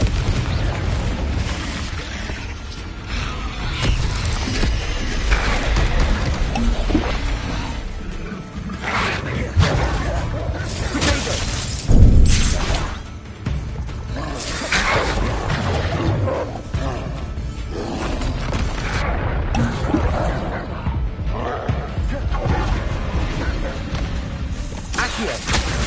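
Fiery Confringo spell blasts in the Hogwarts Legacy video game, with repeated booming explosions and crashes through dense combat noise, one heavy burst standing out near the middle, under an almost constant voice.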